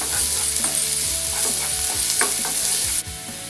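Mustard seeds, urad dal and small chopped onion frying in oil in a pan, a loud continuous sizzle with crackling pops and scraping stirs of a spoon, ending abruptly.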